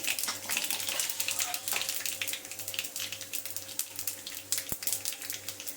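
Chana dal and cumin seeds frying in hot oil give a soft, continuous sizzle and crackle with scattered pops, fairly faint, over a low steady hum.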